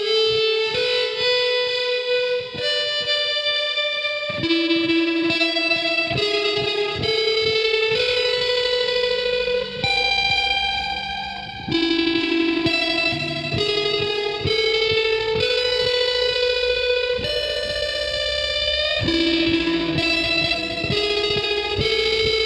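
An Arachnid guitar pedal runs its roar circuit as a tremolo with an ambient delay, producing a pulsing, distorted, echo-washed guitar line whose sustained, chiming notes repeat and overlap continuously, loud and alone.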